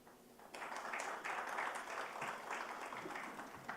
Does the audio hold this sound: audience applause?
yes